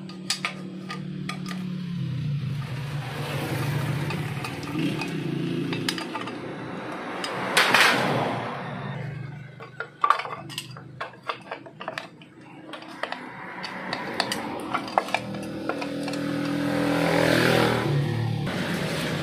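Metallic clinks and knocks of tools working off the magneto cover of a motorcycle engine, irregular taps and scrapes close by, with someone talking now and then.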